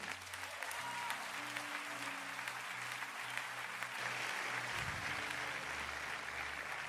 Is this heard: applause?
yes